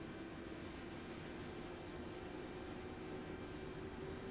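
Helicopter engines spool up during auto start in Microsoft Flight Simulator, heard as a faint, steady turbine whine and airy hum with no break.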